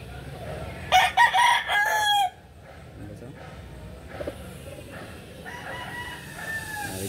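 A rooster crows once, close and loud, in a short burst, then someone talks quietly over faint outdoor background noise.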